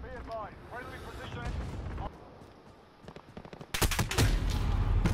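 Video game gunfire crackles in dense, loud bursts that become heavier near the end, while someone speaks excitedly over the first part.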